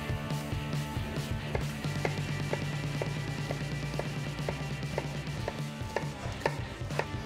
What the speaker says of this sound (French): je vais émincer pour faire quelque chose de très fin